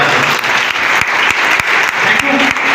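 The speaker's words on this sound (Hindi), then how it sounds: "मैं एक बार संजीव सर का नाम लेकर ताली बजाता हूं।" Audience applause at a talk or seminar, steady dense clapping filling the space throughout, loud and continuous with a few sharper individual claps standing out.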